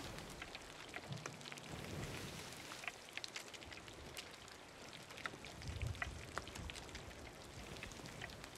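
Steady rain pours down during a storm at sea in a video game, a constant soft hiss of drops with low rumbles of thunder rolling underneath, fairly quiet and with no voices.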